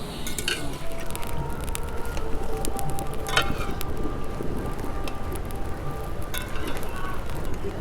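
Gulab jamun (pantua) sweets made from flour fry slowly in ghee over low heat in a home kitchen, giving a steady, dense bubbling crackle that runs unbroken throughout at close range.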